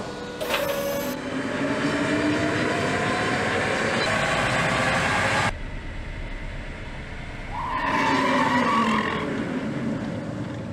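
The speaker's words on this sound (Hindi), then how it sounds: "प्रदर्शन की जांच के लिए रोल एंड ब्रेक" A Tata Nexon EV on a roll and brake performance test rig in a factory, giving a steady mechanical whir with rising and falling whines, a sudden drop partway through, then another swelling whine, moderately loud.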